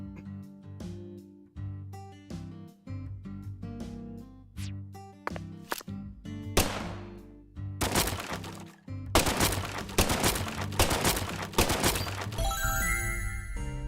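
Tranquilizer gun shots in a video game, a series of sharp clicks and thunks that gives way to louder, denser bursts of noise toward the end, with no talking.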